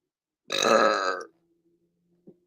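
One long, loud, close burp lasting under a second, followed by near silence and a faint small click.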